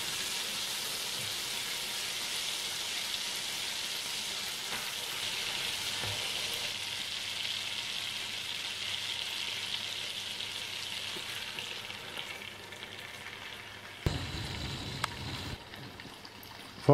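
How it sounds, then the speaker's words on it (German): Schnitzel frying in plenty of butter in a pot gives a steady, close, dense sizzle that holds throughout, with a brief clatter near the end. "Während die Schnitzel vor sich hin brutzeln"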